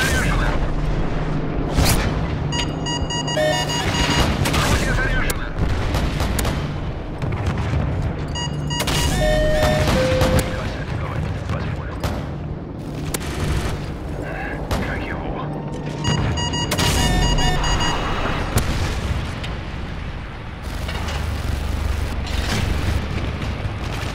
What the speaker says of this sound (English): Friendly AC-130 in the air.